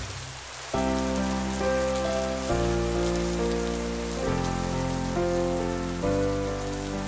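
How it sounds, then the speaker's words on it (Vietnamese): Cartoon rainfall lays a steady, fairly loud wash of pattering hiss beneath sustained musical chords that shift several times. "vậy là mùa mưa năm nay thực sự đã bắt đầu"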